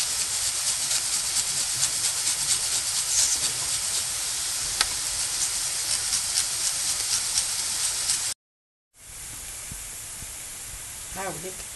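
Ground meat and minced garlic frying in a pan, a steady close sizzle and hiss that cuts off briefly, then resumes softer with a few faint clinks.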